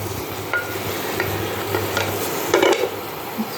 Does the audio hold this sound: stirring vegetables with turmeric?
yes